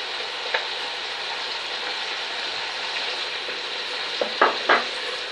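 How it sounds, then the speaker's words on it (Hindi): Chicken sizzles steadily in a pan with ginger garlic paste during cooking for chicken nihari, a constant frying hiss broken by a few brief stirring scrapes near the end. "अब मैं इसमें अदरक लहसुन का पेस्ट डालूंगी।"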